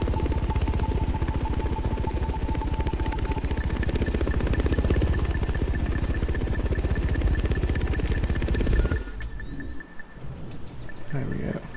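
A helicopter in a video game flies with rapid rotor thumping and engine drone for most of the stretch, then the sound shifts abruptly near the end as the chop cuts out into softer, noisier rumble.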